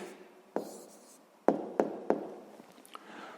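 A pen writes on paper close to the mic in a quiet room, making soft scratchy strokes broken by a few sharp taps as it touches down.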